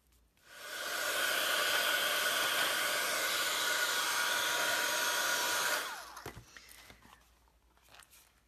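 A heat tool drying paint and rust effects on a box, a loud steady blowing whoosh that runs about five seconds then cuts off, followed by light handling clatter.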